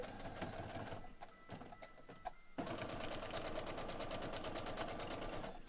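A sewing machine stitching foundation paper pieced blocks for a pine tree quilt runs in close, steady bursts. A short pause breaks the rapid mechanical chatter, then it resumes without any speech.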